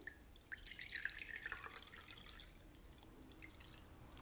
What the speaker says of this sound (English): I'm going to pour it into my pan